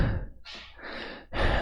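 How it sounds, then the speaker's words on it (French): Breathing sound effect from the Hollywood Film Effect Library: a few close, airy breaths in and out with a short pause between them, clean and alone with no talk. "pour l'utilisation d'un bruit de respiration Hollywood Film Effect"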